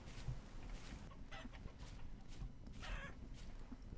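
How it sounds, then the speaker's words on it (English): Small chicks and chickens in the video game Vintage Story cluck in short bursts over a steady low background hum, fairly close, with a few brief squawks. "Well, I found some chickens."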